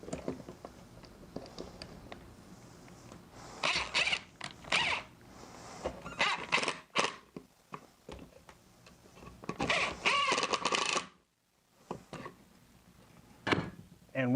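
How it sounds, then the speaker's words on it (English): Self-tapping pocket screws driven into pocket holes by a power driver, producing several separate whirring bursts of a few seconds each, loud and close, with quiet pauses between them and no talk. "since these screws are self-tapping, it's just a matter of lining it up and driving the screw"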